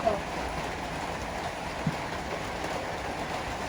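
Steady rain falls on a cloudy day in a village, a dense, even hiss that holds throughout with a faint low rumble beneath and no talking.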